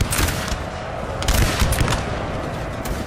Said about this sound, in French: Sans pitié, il tire sur les fuyards.